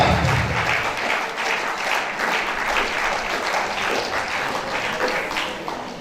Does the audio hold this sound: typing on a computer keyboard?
no